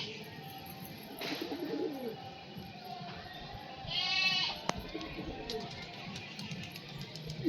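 Madras pigeons at a pigeon house give soft cooing and bleat-like calls over a steady outdoor background, with occasional human voices nearby.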